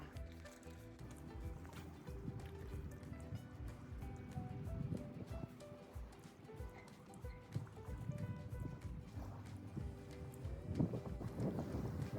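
Low, gusty wind rumbles and buffets the microphone outdoors by Silverwood Lake on a cold day, with a steady rough roar and occasional louder gusts.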